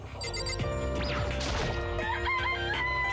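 Chicken crowing in the Danganronpa video game, a bright rising call over a dense backdrop of game music and chiming effects, loud and continuous throughout.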